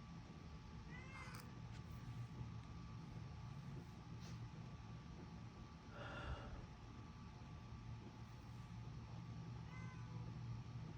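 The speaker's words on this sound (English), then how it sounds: "That's my cat, y'all." A cat meows several times in the background, faint drawn-out cries spaced a few seconds apart over a steady low hum.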